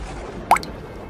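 A single water drop falls from a leaking roof during heavy night rain in a cartoon story, giving one short, clear plop against a soft steady background.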